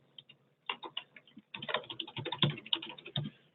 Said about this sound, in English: Oh, I'm not typing good.